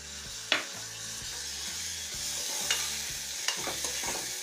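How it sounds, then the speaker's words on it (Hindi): Finely chopped tomato frying in a cooked spice masala for a cabbage and potato dish, with a soft continuous sizzle and repeated scraping strokes of a spoon against the pan, plus a few sharper taps, close and fairly quiet. "1-2 मिनट तक इसी तरह से चलाते हुए टमाटर को भी भून लेते हैं"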